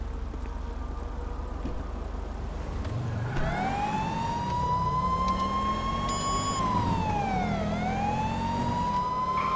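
Police car siren in GTA 5 with the LSPDFR mod, starting after a low engine rumble and rising into a loud, close wail that sweeps up and down, briefly switching to a stepped tone partway through.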